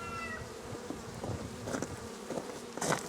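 Honey bees buzz around a Flow hive, a close, continuous droning hum with individual bees swelling louder as they pass near, no speech.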